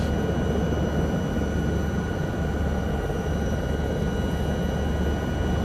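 An SA315B Lama helicopter flying in Microsoft Flight Simulator, a steady, loud droning engine and rotor roar that holds constant throughout with no talk.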